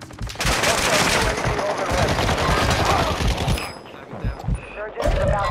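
Rapid automatic gunfire rattles in dense bursts on Ashika Island in Call of Duty Modern Warfare II Warzone, loud and close, then breaks into a few scattered shots near the end.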